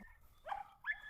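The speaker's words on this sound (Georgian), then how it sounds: "ესენი დომინანტი ძაღლები არიან" Two short barks from dominant hunting dogs, fairly faint and close together, the second slightly louder, with a quiet background.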